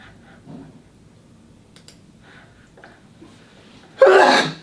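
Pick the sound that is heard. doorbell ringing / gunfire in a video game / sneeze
sneeze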